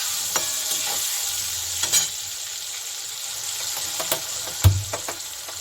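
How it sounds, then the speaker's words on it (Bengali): Eggplant pieces fry with salt and turmeric in a pan under a steady, bright sizzle, with occasional spatula knocks and one sharper clack toward the end. "নুন হলুদ দিয়ে একটু বেগুনগুলোকে আমি একটু ভেজে নিচ্ছি।"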